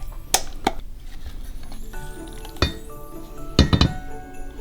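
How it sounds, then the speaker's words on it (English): Blended jalapeno dip dumped from a blender jar into a bowl, heard as several sharp glassy clinks and knocks spread unevenly through the clip over a faint kitchen background, with no talking. "We're just gonna dump this in the bowl."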